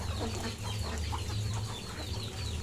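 Pet chickens scrambling for food in a rain-damp yard, a dense overlapping chorus of clucks and squawks close by, continuous throughout.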